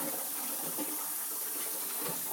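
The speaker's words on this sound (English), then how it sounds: "is I run this under cold water." Cold tap water runs steadily over hot cooked turkey meat in a kitchen sink, a continuous close splashing gush.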